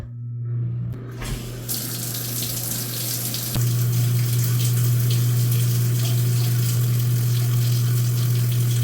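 A shower running steadily for a bath, water gushing loudly and continuously after a brief quiet start, with a constant low hum of running water and plumbing throughout.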